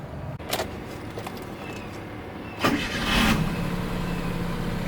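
A turbocharged Suzuki Jimny engine cranks and fires around midway, then settles into a steady idle, close and fairly loud with some cabin noise and no talking.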